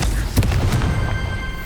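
A Confringo fire spell explodes in Hogwarts Legacy with a short booming blast and a couple of sharp thumps, followed by a fading rumble.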